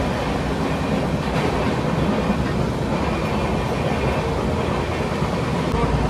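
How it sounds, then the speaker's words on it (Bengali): The Kamrup Express runs at full speed, heard from inside a sleeper coach as a loud, unbroken roar of wheels and rattling carriage with a constant rumble throughout. "ট্রেন একদম ফুল স্পিডেই দৌড়াচ্ছে, আওয়াজ প্রচণ্ড।"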